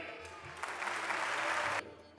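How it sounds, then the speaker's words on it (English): An audience at the Akshardham Mahotsav gives a short burst of applause for Assemblyman Phil Ramos, a brief wash of clapping that swells and cuts off after about a second, with faint voices before and after. "Please give him a round of applause as we ask him to address the greater audience."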